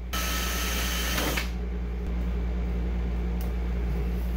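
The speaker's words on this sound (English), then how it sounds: "be super careful when you're drilling holes" A steady motorized drill whine drilling holes in a car door panel runs throughout, with a brief higher burst near the start, close and continuous.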